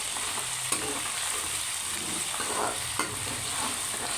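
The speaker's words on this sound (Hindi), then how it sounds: "अब इसमें अदरक लहसुन का पेस्ट ऐड कर दें" Ginger garlic paste frying with onions in a pan for Lahori chana, stirred steadily, with a soft continuous sizzle and a few sharper scrapes of the spoon, close and moderately quiet with no talking.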